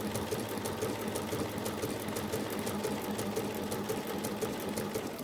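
A sewing machine straight-stitches an applique petal piece with a fast, even mechanical chatter that runs steadily and up close, with no voices.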